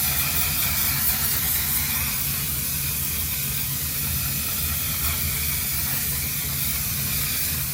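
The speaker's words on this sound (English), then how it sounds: "the Jumbo, the one size spray. This is like normally my go-to to lock it in." A jumbo-size setting spray mists continuously onto a face, a steady close hiss filling the whole stretch without pause.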